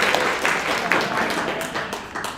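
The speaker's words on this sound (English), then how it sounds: "Jeff calls that a golf clap" Light, polite applause from attendees at a community advisory team meeting, a brief spatter of claps with voices talking over it in a room.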